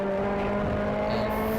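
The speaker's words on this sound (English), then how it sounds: "Getting back on throttle, short shifting right around here." A race car's engine drones steadily and loud on the Autobahn Country Club south track as the driver short-shifts back on throttle, the tone holding nearly constant through the whole clip.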